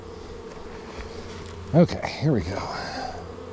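Honey bees drone steadily and close by during a hive inspection, with louder buzzing swells as they move. A person speaks briefly over the buzzing.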